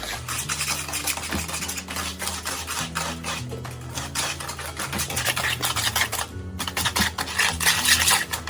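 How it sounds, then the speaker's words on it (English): Ingredients and two eggs being mixed in a bowl, a busy scraping and clattering of a utensil against the bowl, continuous and fairly close, with steady rhythmic strokes throughout. "let's start mixing again"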